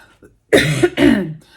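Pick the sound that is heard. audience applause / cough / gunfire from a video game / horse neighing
cough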